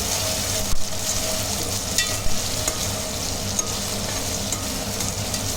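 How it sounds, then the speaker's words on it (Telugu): Mint and fenugreek leaves fry in a pan for an aloo kurma while being stirred, giving a continuous close sizzle with occasional spoon scrapes and clicks, and no talk. "ఒక కప్పు పుదీనా, ఇంకో కప్పు మెంతి కూర వేసుకొని అలా నీట్గా కలుపుకోవాలి."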